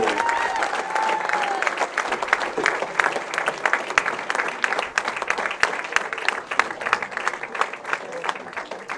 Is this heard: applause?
yes